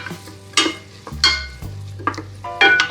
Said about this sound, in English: the celery. Let that start to heat up in the butter